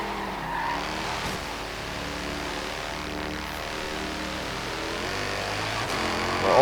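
An Alfa Romeo 8C racing in Forza Horizon 3 brakes hard for a corner, its tires skidding and squealing over a steady engine drone that runs the whole time and swells at the end.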